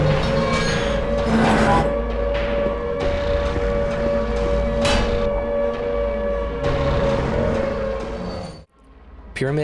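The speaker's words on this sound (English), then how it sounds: "Eventually, a siren goes off." A siren wails in the video game Silent Hill 2, a loud sustained droning tone held steadily over a rumbling mechanical background, briefly cutting out near the end.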